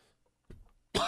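A single sharp adult cough bursts out loud and close at the end, following a short throat-clearing sound and near silence, in a spoken talk-show setting.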